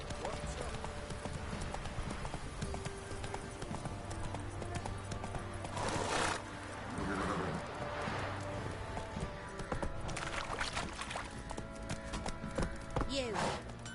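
Hooves of Geralt's horse Roach in The Witcher 3 clop steadily at a trot on a game road, a continuous rhythmic beat under character dialogue and background game audio.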